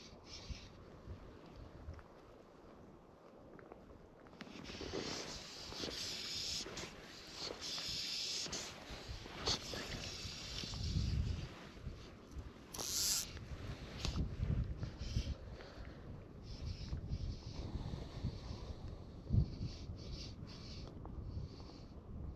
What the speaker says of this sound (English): The wind's picked up again.